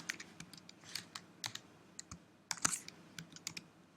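Quick, light clicks of fingers typing on a computer keyboard, close and fairly quiet, in irregular bursts with no talking.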